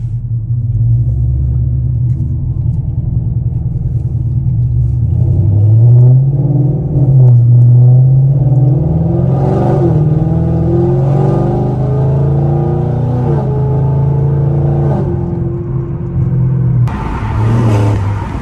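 A car driven in track mode, its engine rumbling steadily and then rising in pitch through several climbing revs as it accelerates, with shifts between gears, loud and close from inside the cabin with no talk.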